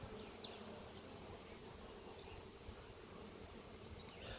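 Honeybee colony in a bee barn, buzzing steadily and densely throughout, a continuous close hum with no voices.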